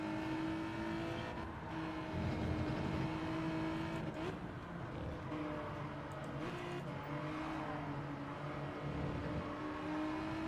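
Race car engine in the Gran Turismo 7 video game as the rear traction breaks loose, a sustained droning whine at moderate level with shifting pitch and tire noise, no talk.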